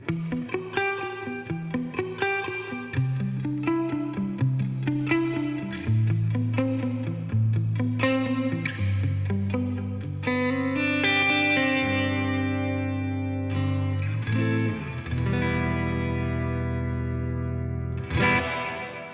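A Strymon BigSky MX pedal set to its chamber reverb program wraps a played instrument in a lush, sustained reverberant wash, with notes and chords blooming and trailing off over nearly twenty seconds, alone without talk.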